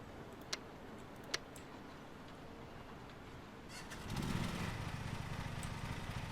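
A ride-on lawn mower engine in the Lawn Mowing Simulator video game cranks and catches partway through, a low steady motor rumble that follows a few sharp ticks over faint outdoor ambience.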